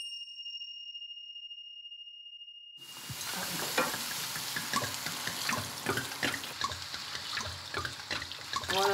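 Beef broth is poured into a frying pan already holding about 500 g of rice, setting off a loud, steady sizzle with stirring and liquid splashing after a few seconds of quiet, close and continuous to the end.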